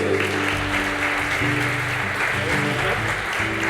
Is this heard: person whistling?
no